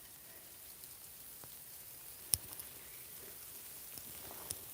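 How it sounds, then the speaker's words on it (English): Hail falls outdoors at an old Victorian dump, a soft continuous patter broken by a few sharp, distinct impacts close by, with no talking. "we're just going to get out of the hail. You hear it?"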